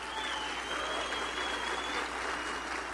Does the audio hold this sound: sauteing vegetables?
no